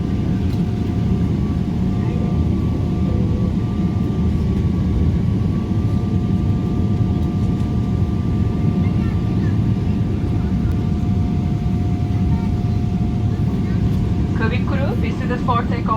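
A Boeing 777's jet engines roar during a steep takeoff, heard from inside the cabin as a loud, steady, unbroken drone with a faint tone riding over it, and brief faint sounds near the end.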